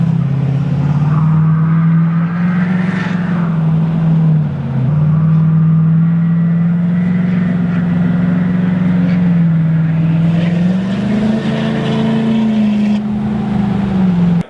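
A loud 2015 Range Rover Sport engine drones steadily while driving, a continuous close rumble with slight rises in revs near the end and no talking.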